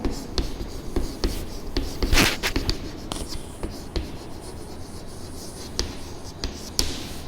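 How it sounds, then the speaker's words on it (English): Chalk or marker writing on a classroom board during a maths lesson, heard as a series of short taps and scraping strokes of varying strength, close and fairly clear, with no talk over it. "I will write here."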